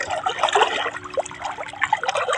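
Cold water runs steadily in a continuous close trickling wash, with a few brighter splashy spots and no one talking.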